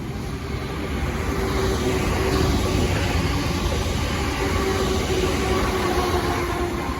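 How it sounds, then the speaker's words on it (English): A Southeastern Class 465 electric train passes close by at a south London line, producing a continuous heavy rumble that swells slightly midway and holds steady, with a faint motor whine. "Next train to pass by will be a Southeastern 465."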